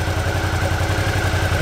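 A Suzuki V-Strom motorcycle engine idles steadily, close and loud, with a continuous low rhythmic thrum and no talk.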